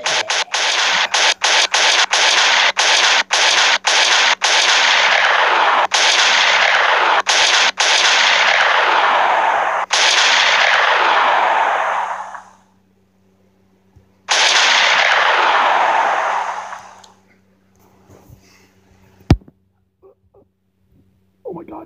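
A powerful gun fires a rapid burst of loud, sharp shots in an animated action fight, followed by a long sustained roaring blast that cuts off, then resumes briefly before fading into quiet with a faint thump.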